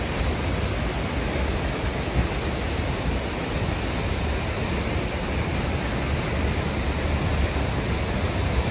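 Rushing water pouring past boulders on Camiguin island in the Philippines, a loud, constant broadband roar with no break, close by and steady throughout.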